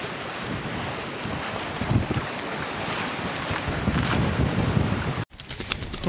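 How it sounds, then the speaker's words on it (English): Strong wind buffets the microphone on a UK seashore during sea fishing for bass, a steady loud roar with gusts and wave wash underneath, cutting out briefly near the end. "It's breezy, man."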